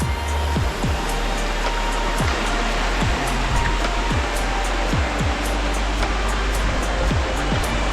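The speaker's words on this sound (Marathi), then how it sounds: "आता पाणी फुल फ्लो नाही पडतं." A hidden waterfall near Ranjanpada village in Alibag, heard as a loud, continuous rush of falling water close by, with faint intermittent ticks over the roar and no speech.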